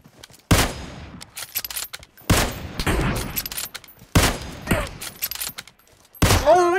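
Gunfire in a first-person shooter video game, in several separate bursts of rapid shots with sharp attacks and decaying tails, spaced a second or two apart, loud and close with no talk.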